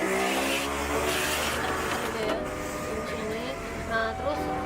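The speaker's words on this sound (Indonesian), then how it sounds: "sekarang kita coba jahit lurus" A Messina P5832 portable sewing machine runs a straight stitch, giving a loud continuous whirring drone that holds steady throughout with slight wavering in pitch.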